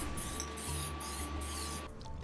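An aerosol can sprays paint onto the underside of a Toyota solid front axle housing, in several short, close hissing bursts with brief pauses between them.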